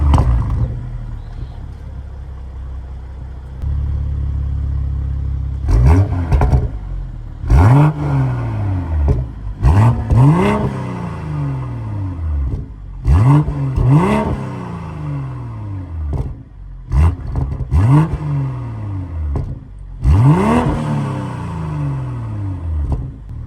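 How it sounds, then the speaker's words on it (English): BMW M240i with the B58 engine and stock exhaust, starting up and then revved repeatedly: a rumbling idle followed by a series of sharp, close throttle blips that rise and fall back. "we're gonna start this thing up again. Go ahead and listen to that B58"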